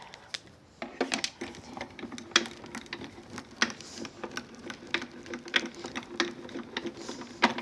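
A die-cutting machine cuts a decorative card insert, producing a rapid, irregular run of close mechanical clicks and taps with brief louder clacks, no voices.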